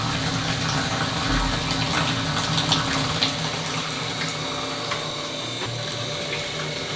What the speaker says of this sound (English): Nice stream of water coming out of there.